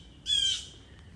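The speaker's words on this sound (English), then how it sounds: "we got a blackbird out there raising Cain" A blackbird gives a single harsh, squawking alarm call outdoors, a short loud burst at moderate distance against quiet background.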